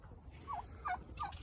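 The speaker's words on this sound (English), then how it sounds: "We got some turkeys." Turkeys on a homestead gobble three quick, faint times over a low outdoor rumble, somewhat distant, with no talking.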